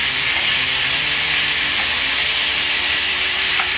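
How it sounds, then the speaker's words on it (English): Ground beef sizzles in a pan as it browns for a meaty chili. A steady, even hiss carries on throughout with no pauses. "First thing we're going to do is we're going to brown our beef."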